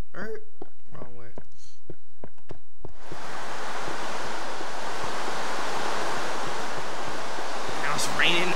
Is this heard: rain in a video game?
yes